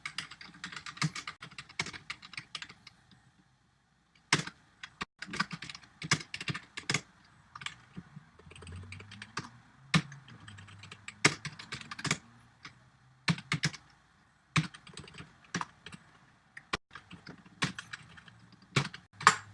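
Keystrokes on a computer keyboard while SQL insert query code is entered, coming in irregular bursts of quick clicks separated by short pauses, close and fairly quiet with no voice.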